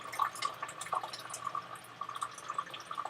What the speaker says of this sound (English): as you have that thin stream of water going in there